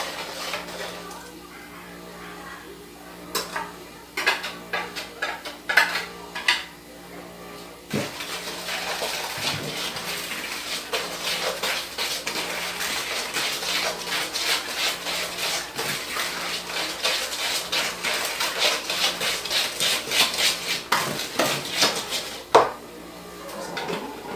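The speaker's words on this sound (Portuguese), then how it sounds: "mistura com essa misturinha do liquidificador, tá bom?" Carrot cake batter of dry flour, sugar and baking powder mixed with a blended liquid is stirred in a bowl, giving a steady, close run of scraping and clinking over about twenty seconds, with a few sharper knocks.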